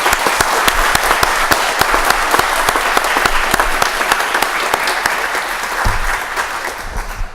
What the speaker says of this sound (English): Let's have one more round of applause for our new supervisor.